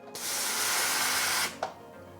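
A Meraki espresso machine's steam wand purges in one loud, steady hiss of spraying steam lasting over a second, then stops, followed by a brief sputtering puff.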